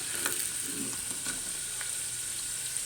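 Fries sizzle in hot oil inside a Sinbo SDF3832 deep fryer, a steady, close crackling hiss with small popping bubbles and no voices.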